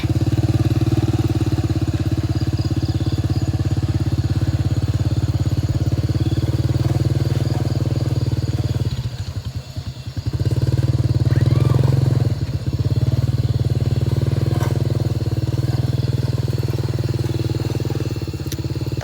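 A motorcycle engine hums steadily and loudly throughout an outdoor ride, with a brief dip and rev change midway and faint wind and road noise.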